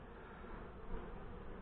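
Honey bees buzz steadily at a small backyard beehive, a close, continuous drone that holds at a soft, even level throughout.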